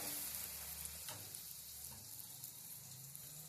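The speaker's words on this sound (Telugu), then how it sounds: "ఇలానే మనం ఇక్కడ ఉన్న పూరీలు మొత్తం వేయించుకోవాలి ఫ్రెండ్స్." Puris deep-frying in oil, a dense, even bubbling sizzle that holds steady and close throughout with no talking.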